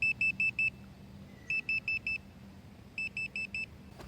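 A Meepo budget electric skateboard sounds a low-battery warning: three bursts of four sharp, evenly spaced high beeps each, repeating about every second and a half, close and clear over faint background hum, with no talking.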